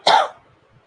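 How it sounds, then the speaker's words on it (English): A single short, sharp cough, close to the microphone, followed by quiet. "Sorry for my cough."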